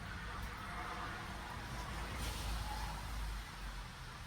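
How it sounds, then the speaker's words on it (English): Cars passing on wet, rainy roads form a steady background hiss of tyres on wet pavement, with a low rumble swelling slightly midway, faint and continuous. "All the cars going by and rainy roads"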